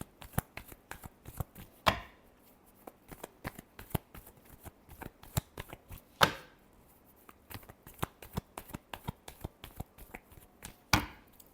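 A tarot deck is shuffled up close, a quick patter of card snaps with three louder riffles spaced a few seconds apart, and nobody speaks.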